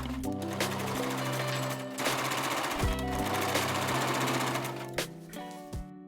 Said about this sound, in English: just continue doing a straight stitch and don't forget to back stitch every start and end of the line